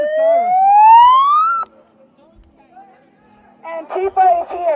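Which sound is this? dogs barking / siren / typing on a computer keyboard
siren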